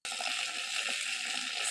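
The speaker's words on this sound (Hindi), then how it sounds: "साग में हम डाल रहे हैं पानी।" Water is poured steadily over mustard greens to wash them, giving a constant soft hiss and splash throughout with no talking.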